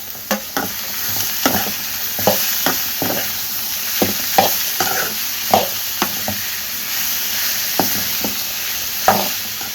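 Grated cabbage tossed into a hot pan with fried onion, ginger and garlic, crackling in a steady sizzle while a spatula scrapes and stirs in regular knocks, close and loud with no talk.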